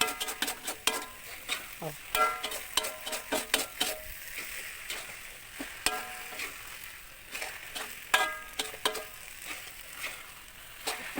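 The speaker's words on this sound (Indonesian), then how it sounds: "sudah masukkan baksonya, kita aduk lagi biar menyatu" Kwetiau goreng with meatballs being stirred in a frying pan: repeated close utensil clinks and scraping against the pan over a soft sizzle, with a brief spoken exclamation.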